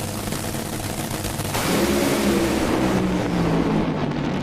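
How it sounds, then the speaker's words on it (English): Top Fuel dragsters racing at the NHRA Pomona Finals at the Fairplex, a loud, sustained roar from a distance that swells suddenly and stays as a broad, droning thunder with a falling engine tone. "That's a pretty good drag race."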